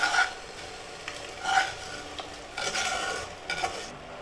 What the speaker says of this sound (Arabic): وبعد ما غلى عندي القطر بدي اضيف السميد اللي حمصته.